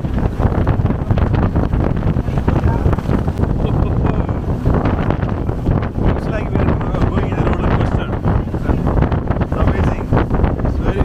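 Strong, constant wind buffets the microphone aboard a speedboat riding from Phuket toward the Phi Phi islands, with a low engine and water rumble underneath, steady and loud throughout, with no clear speech.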